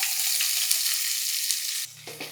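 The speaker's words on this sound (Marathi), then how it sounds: "आणि मग घालू कांदा" Sliced onion dropped into hot oil tempered with bay leaf and cumin, giving a steady close sizzle of frying that drops abruptly near the end, followed by brief stirring scrapes.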